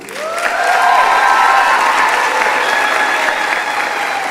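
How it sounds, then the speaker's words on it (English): Sustained audience applause at a school commencement ceremony, steady and dense from start to finish, with a few whoops or tonal calls rising above the clapping. "Give them a round of applause."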